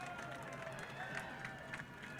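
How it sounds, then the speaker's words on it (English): An ice hockey arena crowd roars for the Coast Guard Academy Bears taking the ice against the UConn Huskies, a steady wash of cheering and clapping under a commentator's voice. "listen to that ruckus crowd"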